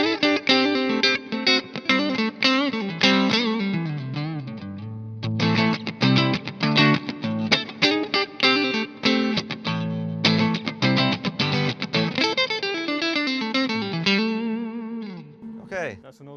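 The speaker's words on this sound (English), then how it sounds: "That's an awesome single coil sound." Single-coil electric guitar played through an amp with effects, picking quick melodic note runs and phrases for about sixteen seconds, moderately loud and alone.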